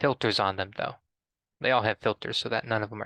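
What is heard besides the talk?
No distinct noise like a dog, phone or traffic.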